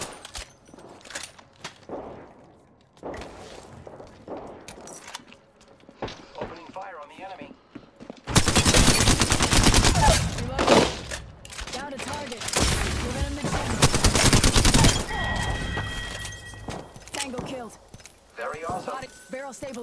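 Gunfire from an Apex Legends firefight bursts out loud and dense in rapid volleys, with a voice talking over it.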